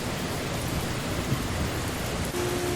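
Heavy downpour during a Hong Kong black-rain storm, a dense, constant hiss of rain on surfaces, close and loud with no talking.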